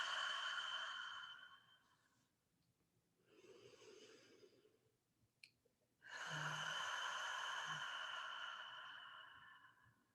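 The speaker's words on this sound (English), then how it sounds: "breathing all the way in and gently exhaling with an audible" During a guided meditation, a long audible exhale comes first, then a quieter breath in, and after a click a deep, breathy release follows, close and soft against near silence.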